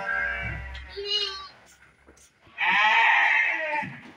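Goats, a male and female pair, bleat close by: a short call first, then a long, loud, quavering bleat, with a brief human voice and low rumble early on.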